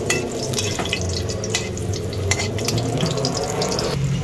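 Ginger browning in a hot pan for pork bone soup, a steady crackling sizzle with occasional sharper spatters and stirring scrapes, close and continuous.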